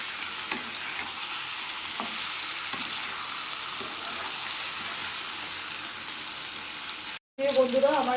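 Jackfruit frying in oil in a pan, a dense continuous sizzle with occasional stirring scrapes, ending in a brief cut and then a voice talking.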